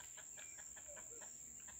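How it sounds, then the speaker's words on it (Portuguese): A hen clucks repeatedly in a steady series of short calls outdoors in a shady yard, heard at moderate distance over a constant high insect drone. "E aquela galinha, ó."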